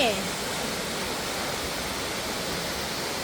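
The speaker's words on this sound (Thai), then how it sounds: "ตอนนี้เห็นน้ำตกแล้วนะคะนี่" Leke Leke waterfall in Bali, tall and flowing strongly after rain, gives a steady, broad rushing roar that holds evenly from start to finish.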